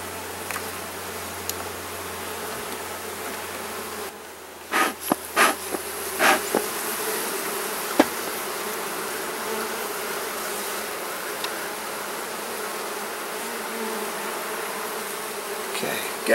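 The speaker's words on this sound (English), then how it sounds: "there's a decent number of bees in this hive" A dense, steady hum of many honeybees droning close by during a hive inspection, continuous throughout, with a few brief louder buzzes as individual bees pass near.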